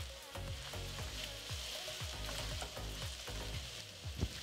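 Onions, garlic and ginger frying in a pan while being stirred, a faint constant sizzle with repeated soft scraping strokes.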